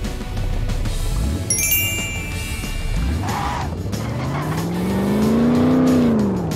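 A monster truck in the Blaze and the Monster Machines racing game revs and slows with a rising and falling engine tone, a squeaky tire or brake whine partway through, close and fairly loud, with no speech.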